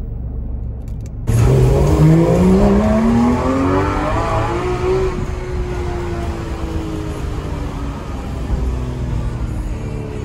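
A Porsche 911 GT3 RS 991 MK1 launches abruptly after a moment of near silence, its engine note climbing steeply and loudly through the revs before easing into a sustained high roar and slowly fading.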